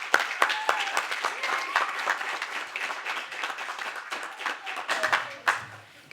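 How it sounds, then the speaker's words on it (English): An audience gives a modest round of applause for a speaker at a morning gathering, scattered hand claps fairly near, steady and then thinning, with a few voices faint underneath. "So let's give her a round of applause."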